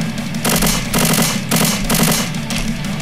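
Rapid automatic gunfire in the survival horror game Slendytubbies: Awakening, loud and close, with several sustained bursts of shots separated by brief pauses.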